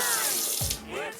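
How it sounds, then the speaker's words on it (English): Hot tap water splashes into a kitchen sink for washing dishes after baking cookies, a short gurgling burst of running water. "While your cookies are baking in the oven, this is a good opportunity to wash your dishes."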